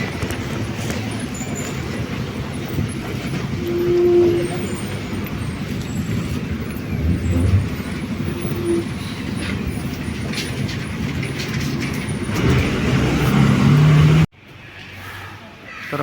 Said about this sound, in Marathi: चिपळूण रेल्वे स्टेशनला पोचलो आता